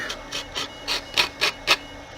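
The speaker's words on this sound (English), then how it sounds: "I just take a sanding block and just kind of rough it up" Seven short abrasive rasps in a steady back-and-forth rhythm, close up, a sanding block scrubbing across a hard plastic model surface.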